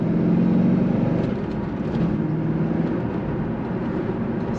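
A 2001 Chevrolet Corvette convertible with a six-speed manual cruising in fifth gear, top up, giving a steady low engine drone and road rumble from inside the cabin, even and moderately loud throughout.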